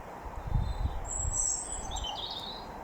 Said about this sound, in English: you can hear a bird singing.